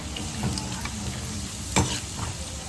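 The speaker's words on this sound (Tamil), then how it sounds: "முந்திரி கொஞ்சம் லைட்டாக சவக்கிற மாதிரி இருக்கட்டும் அப்புறமா பெருங்காயத்தூள் கருவேப்பிலை செவத்து பாருங்க" Cashews, asafoetida and curry leaves frying in hot oil in a pan, giving a steady close crackling sizzle with a brief louder spatter near the end.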